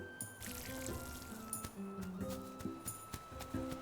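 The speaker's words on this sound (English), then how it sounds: "So all the wheat here is watered" Watering crops in the farming game Sugardew Island, soft pouring and trickling splashes in short repeated bursts over light background music, fairly quiet.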